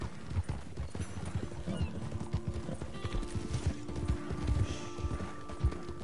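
A horse gallops in Red Dead Online, its hoofbeats a fast, even rhythm close by over a steady ambient game bed, with no voices.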